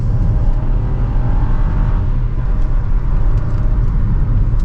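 A 2025 Chevrolet Trax 2RS with a turbo engine accelerates during a test drive, giving a steady, loud interior drone of engine and road noise with a slight rise in pitch.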